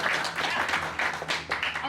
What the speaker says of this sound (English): the other players will start clapping in